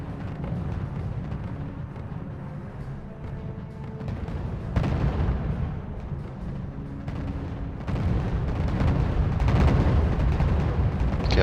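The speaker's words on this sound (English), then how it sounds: "Okay, so now the M40s are starting to shoot." M40 guns fire in the real-time strategy game RUSE, a rolling series of deep booms and artillery blasts layered over a continuous battle rumble that swells louder toward the end.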